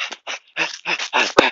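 A dog barks several times in short, sharp bursts, close and loud, with one brief crack near the end.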